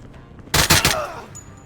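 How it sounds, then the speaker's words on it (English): A short burst of several gunshots rings out in a tactical close-quarters strategy game, loud and rapid, then trails off into quiet. "he should be able to see this guy and take some shots on him"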